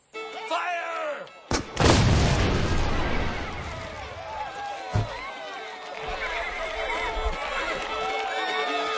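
Cannon artillery fire in a film battle scene gives a sudden loud boom followed by a long rumbling decay. Horses whinny and neigh around it, and a second, sharper blast comes a few seconds later.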